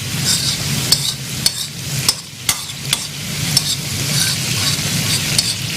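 Garlic frying until golden for garlic rice, a loud close sizzle with a regular rhythm of sharp metal spoon scrapes and knocks against the pan.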